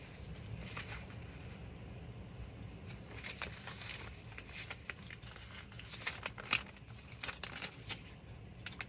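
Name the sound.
handling sheet music and piano roll paper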